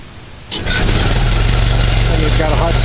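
A Model T Ford engine hot-starts about half a second in and jumps straight into a loud, steady rumbling idle, heard close up and running on with no break to the end.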